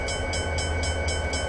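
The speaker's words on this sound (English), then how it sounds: "So we're driving these CSX SD40-2s" CSX SD40-2 diesel locomotives running in a train simulator game, a steady loud engine drone with low rumble and regularly pulsing rail noise, alone with no talk.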